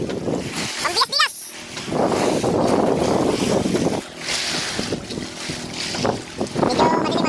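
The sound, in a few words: service boat moving on water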